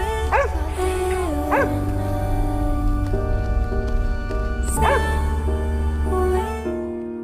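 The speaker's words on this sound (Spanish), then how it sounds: "El perro se apresuró a acudir al lado del hombre, ladrando sin parar" A dog barks a few times in sharp bursts, with a long droning hum running underneath throughout.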